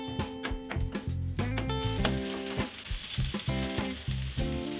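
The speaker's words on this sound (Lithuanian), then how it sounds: "Kepsim daržovės" Vegetables fry in a little oil in a pan, giving a loud, close sizzle with clattering scrapes and stirring knocks from a utensil over the hiss.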